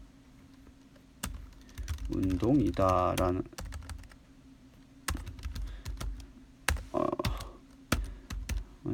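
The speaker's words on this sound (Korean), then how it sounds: "블루투스 키보드가 이게 좀 안 좋네요" Keystrokes on a Bluetooth keyboard click in short irregular bursts, close and fairly crisp, with someone speaking Korean over part of the typing.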